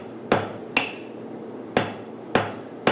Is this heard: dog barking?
no